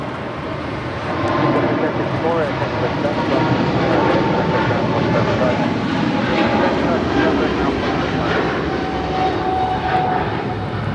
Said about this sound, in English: That is Philippine Airlines Flight 113 departing to Manila on a 777-300 ER.